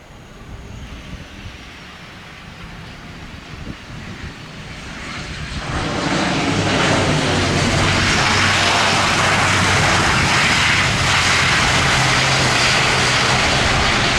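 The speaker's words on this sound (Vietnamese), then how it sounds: "mời mọi người chiêm ngưỡng hạ cánh của chiếc ATR-72 này nha" An ATR-72-500 turboprop airliner landing, its engine drone starting moderate and swelling to a loud, steady roar as it passes close overhead and stays loud to the end.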